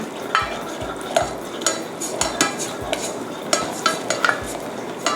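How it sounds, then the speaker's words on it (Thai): Thai curry paste being stir-fried over low heat for a beef curry, a spatula scraping the pan in a steady rhythm of close, sharp strokes over a soft sizzle. "ผัดไปเรื่อยๆนะคะ จนกว่าพริกแกงจะเริ่มหอม"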